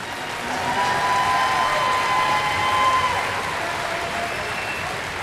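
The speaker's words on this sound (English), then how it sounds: "Let's have another round of applause." A sustained round of audience applause at a 5th grade band spring concert, steady dense clapping from a sizable crowd that swells slightly and continues throughout.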